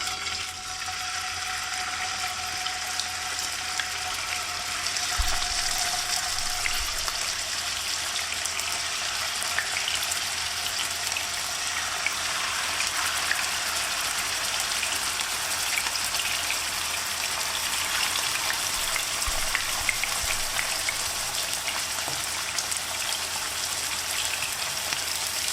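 Pieces of pork sizzle steadily in hot oil in a frying pan, a continuous close crackle and spatter with no talking.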